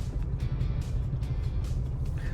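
A car creeps along slowly in traffic on a road under construction, with a steady low engine and road rumble heard from inside, punctuated by faint intermittent clicks and knocks.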